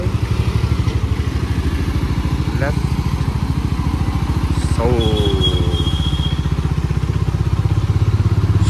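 A motorcycle rides along a road with a steady, loud, close engine drone and rhythmic firing pulses throughout, while someone briefly speaks and a couple of short horn-like tones sound in the traffic.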